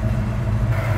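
A 1989 Ford Mustang GT convertible's 5.0-liter V8 idles close by with a steady, low rumble, alone and unchanging throughout.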